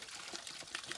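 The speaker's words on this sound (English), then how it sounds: "Just wanted you to see this little waterfall." Small waterfall along a forest hiking trail, a steady soft wash of falling water heard up close with faint splashy surges and no talking.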